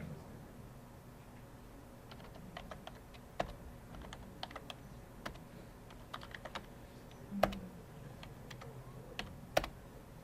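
Keys tapped in a steady, uneven patter as data is entered on a calculator, with sharper clicks standing out. Quiet and close, no one speaking.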